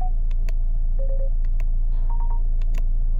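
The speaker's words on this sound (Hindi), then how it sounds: "लेन डिपार्चर वार्निंग साउंड में जाएंगे तो आप देख पा रहे हैं यहाँ पर" A Mahindra Scorpio N plays its lane departure warning, a series of short electronic beeps and brief tones in an irregular pattern over a steady low cabin hum.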